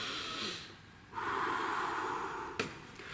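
A demonstration of balloon breathing as an anxiety-calming exercise: a slow breath in, then a long, steady exhale held for a couple of seconds, ending with a short sharp puff, close and alone with no talk.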